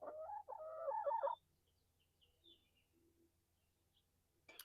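A short burst of clucking and chattering chickens, fairly close, followed by quiet with a few faint distant chirps, on a small flower and vegetable farm.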